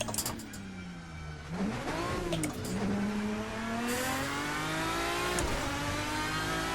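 A GT-M Lanzo V10 Evo2 race car in Assetto Corsa revs steadily while a downshift drops the pitch and it climbs again, the engine loud and continuous throughout.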